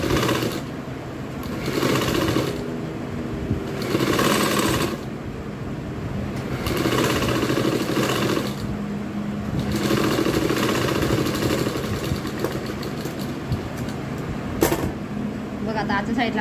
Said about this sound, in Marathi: इथं 1 कडेला मारली आता इथं 1 मारायची म्हणजे आपली व्यवस्थित अशी बसली जाते फ्रील